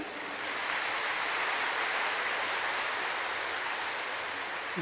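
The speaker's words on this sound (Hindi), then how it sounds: "अपने जन्म की मुबारक के लिए ताली बजा दे जरा" An audience at a Brahma Kumaris spiritual gathering claps together in a dense, even wash of applause that rises quickly and stays loud and sustained throughout.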